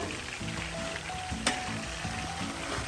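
Morning glory and pork simmer in a pan on a hot stove, a steady low sizzle and bubbling with a faint tonal hum and one brief sharp tick partway through.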